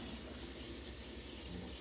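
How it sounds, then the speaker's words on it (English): A paintbrush is rinsed under a running kitchen sink tap, a steady, quiet gush of water lasting the whole short moment without voices. "Wash off my brush."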